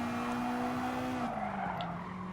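Mercedes AMG GT GT3 race car braking hard into a corner in Gran Turismo Sport on a wet track: a sustained tire squeal over steady engine drone, its pitch dropping slightly as speed bleeds off.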